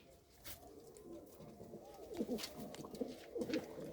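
A domestic pigeon, one of a breeding pair kept with two chicks, gives soft, low rolling coos that grow more frequent toward the end, close by over a faint background hiss.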